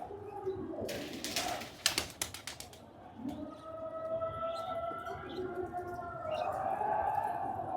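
Soft pigeon cooing runs through steady outdoor background noise, with a burst of rustling or flapping early on.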